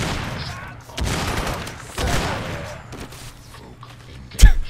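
Gunfire in the video game Crysis, a few rapid bursts of shots with a loud close shot near the end, heard alone without talk.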